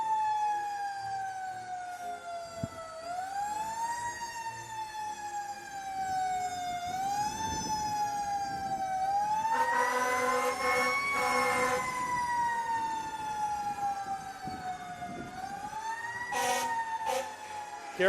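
Tuscaloosa Fire and Rescue fire truck sirens wail loudly at close range during a Christmas parade, a steady rising and falling tone with horn blasts near the middle and end, no talking over it.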